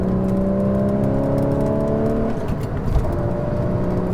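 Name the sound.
manual car engine rev-matching during heel-toe downshift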